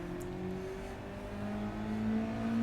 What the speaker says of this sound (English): So, revving the car.